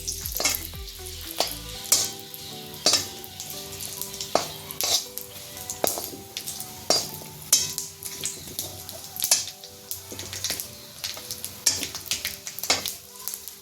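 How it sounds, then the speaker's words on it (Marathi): Mace roasting in oil in a pan for a homemade no-onion, no-garlic spice mix, with a gentle constant sizzle broken by repeated sharp scrapes and taps of a spoon stirring against the metal, close and rhythmic. "रामपत्री घालतीये. ही छान तेलावर भाजून घ्यायची आहे."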